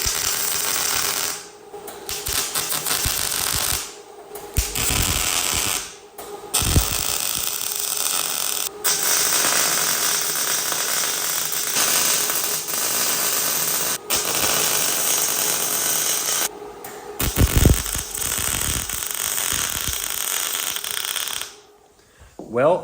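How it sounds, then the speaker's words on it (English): An Everlast welder lays beads on quarter-inch steel in a garage, a loud steady crackling buzz that runs in long passes broken by brief pauses. "now we get to fire up the welder, turn that thing up, and see how that does welding"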